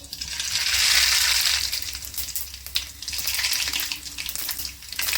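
Mustard seeds sizzle and crackle in hot oil for sambhar tempering, a dense hissing spatter with scattered sharp pops, fairly loud and close.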